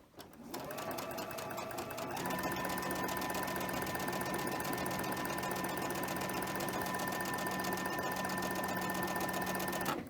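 A sewing machine stitches quilt heart blocks with a steady, fast mechanical whir that starts up and holds an even hum and rhythmic chatter for about eight seconds, close and alone without talking.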